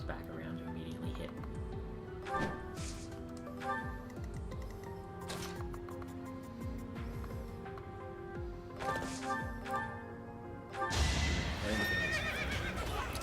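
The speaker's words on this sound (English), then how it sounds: "The horse just jumped out the way." A horse neighs and its hooves clatter in the Fire Emblem Three Houses video game, with repeated whinnies and clip-clop beats among game effects, growing busier toward the end.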